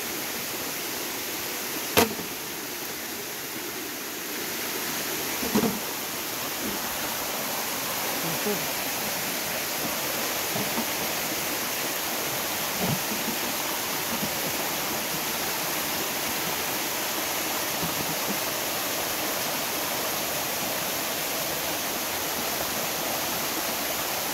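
Barriowin waterfall in upper Marikina pours steadily, a continuous broadband rush heard from nearby, with a few faint knocks and brief voices surfacing over the constant water noise.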